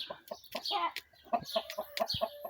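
Silver Wyandotte chicken clucking up close in a run of short, bright clucks with a few longer calls, fairly loud, with light farmyard noise around it.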